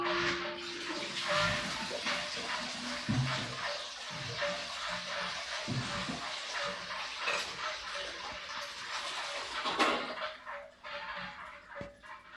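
Water runs from a tap into a vessel at home in the morning, a continuous splashing rush with a few knocks and clanks of the container.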